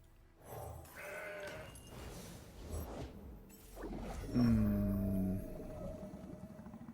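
Mountain Goat card in the Legends of Runeterra video game, with game effect sounds followed by a clear, fairly loud wavering goat bleat lasting about a second, then quieter effects.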